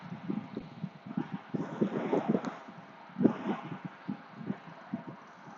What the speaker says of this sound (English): I've been riding into the wind the whole time.